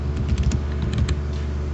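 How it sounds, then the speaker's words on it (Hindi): Keys are pressed on a computer keyboard, a short, close burst of clicking keystrokes in an irregular rhythm, with no one speaking. "कंट्रोल P को दबाएंगे कीबोर्ड से"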